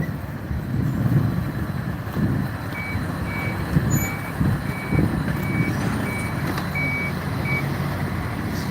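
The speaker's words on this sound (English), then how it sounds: "That's my truck getting loaded right there." A truck reverses while being loaded, its backup alarm beeping in a steady, regular rhythm over a loud rumbling engine and general yard noise.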